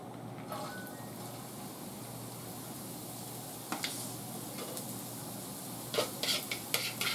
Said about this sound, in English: all I'm going to do is saute these just a little bit to wilt down the veggies